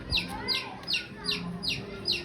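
A chick cries for its mother hen in a series of about six loud, high, downward-sliding peeps at a steady rhythm, each call sharp and close.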